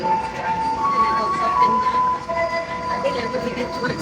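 The Logawa passenger train pulls out of an Indonesian station, with a sustained mechanical rumble and steady drone under bright, wavering tonal whistles and squeals that sound like rolling steel wheels.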